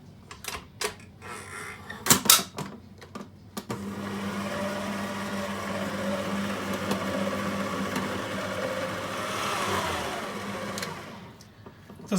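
Stand mixer with a beater attachment mixing cream cheese icing with butter and vanilla for cinnamon rolls. A few clicks and knocks give way to a steady motor whir that holds for several seconds, then winds down.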